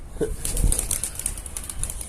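Pigeons flap their wings close by near a rooftop coop, giving a few quick bursts of fluttering over a soft background.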